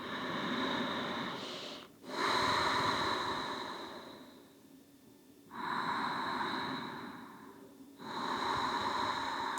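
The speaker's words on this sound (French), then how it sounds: "On va prendre encore 2 grandes respirations." Deep, slow breaths taken during a gentle morning vinyasa yoga session: close, airy inhales and exhales in long cycles with brief pauses between them, and no talking.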